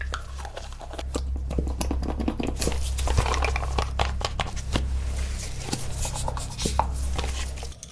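A white plastic food container with a lid handled up close: crisp clicks, taps and crinkly rubbing in quick, irregular bursts, fairly quiet and intimate, with no talking.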